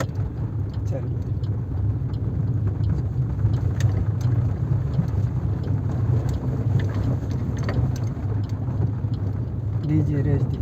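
A car driving along a road with a steady low engine rumble and road noise throughout, rising slightly at times as it accelerates, heard from inside the cabin with occasional faint clicks and a voice speaking.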